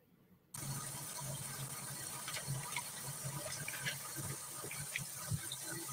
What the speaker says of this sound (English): Is she taking a shower?